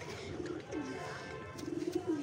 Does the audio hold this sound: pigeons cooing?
yes